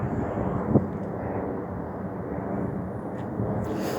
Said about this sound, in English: All the planes take off from Toronto Pearson International and pass by Victoria Park and Shepherd before they take off